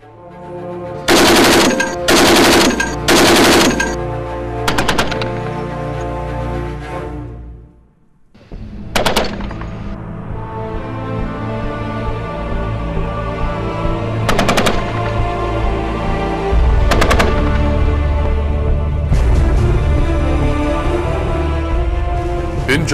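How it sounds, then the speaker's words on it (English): A 50 caliber remote weapon station machine gun firing: several loud, close bursts of rapid automatic fire, then a short gap and single sharp shots spaced over a sustained mechanical drone. "The 50 caliber overhead remote weapon station utilizes thermal sensors and laser range finders for stabilized day-night shoot-on-the-move capability."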